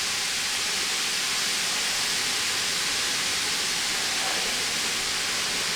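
A skillet heating on medium-high heat gives off a steady, broad hiss, a continuous even sizzle with no breaks.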